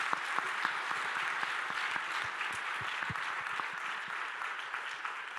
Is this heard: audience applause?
yes